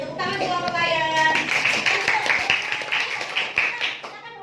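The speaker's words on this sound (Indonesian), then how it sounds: "Beri tepuk tangan untuk kelompok layan." Schoolchildren in a sixth-grade classroom clap for a group, starting as a few scattered claps under voices and turning into a brisk, uneven round of applause that fades out toward the end.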